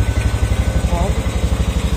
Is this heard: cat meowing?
no